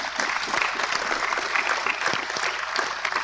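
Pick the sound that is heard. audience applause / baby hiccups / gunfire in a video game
audience applause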